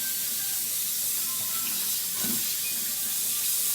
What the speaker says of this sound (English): I'm going to run some water over it.